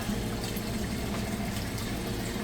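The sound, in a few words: Amana washer draining water after wash cycle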